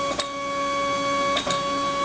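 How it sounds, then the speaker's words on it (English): A small motor on a converted mini milling machine turns the crank under joystick control, giving a steady whirring drone with a few brief clicks near the start and toward the end. "the motor on the left is turning the crank on the right, and I'm just moving the joystick"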